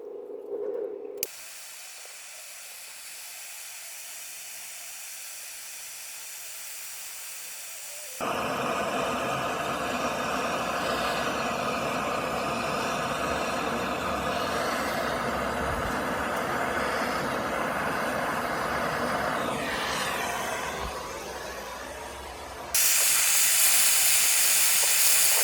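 A torch flame roars steadily as it melts down scrap silver contacts, a loud continuous hiss that swells sharply partway through and then continues alone with no voices.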